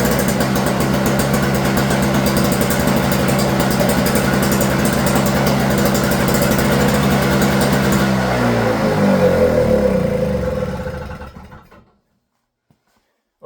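A neighbor's snowblower engine with a dirty carburetor runs after a shot of starting fluid, throbbing loudly and steadily up close before faltering, slowing and dying into silence near the end.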